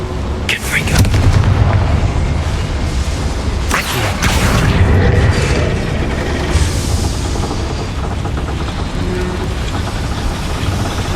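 Confringo fire spell blasts in the video game Hogwarts Legacy, set inside a small mine: dense, loud explosive booms and crackling bursts over a rumbling bed for about eleven seconds.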